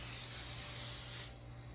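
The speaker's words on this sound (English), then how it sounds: "spray the griddle every single time you finish a batch" Cooking spray hisses onto a breakfast griddle in one steady, close burst lasting just over a second before cutting off.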